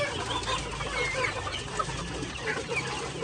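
White Leghorn chickens and chicks on a small farm, a dense continuous chorus of clucking and chirping from many birds, close and steady with no talk.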